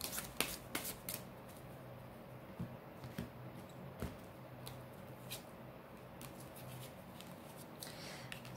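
Oracle cards shuffled by hand during a tarot reading: soft, quiet riffling with scattered light taps and clicks, close and intermittent, alone without talking.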